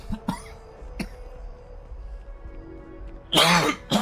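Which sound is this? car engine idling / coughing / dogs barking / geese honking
coughing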